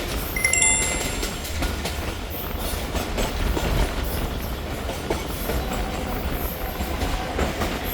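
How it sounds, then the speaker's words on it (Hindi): A Khyber Mail passenger train on the Rawalpindi to Karachi route runs through Mali station without stopping, giving a close, steady rumble with continuous clickety-clack of wheels on rail joints and faint metallic clinks throughout. "बग़ैर स्टॉप के हमारी ट्रेन क्रॉस कर रही है मली स्टेशन को"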